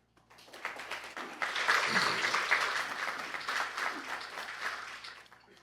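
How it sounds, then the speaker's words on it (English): Audience applause at a spiritual teaching talk, swelling from quiet to a full sustained round of many clapping hands, then tapering off, heard at moderate distance without speech. "It's fascinating that you love to applaud yourselves so much"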